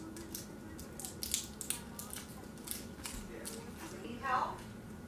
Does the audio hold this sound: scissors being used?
yes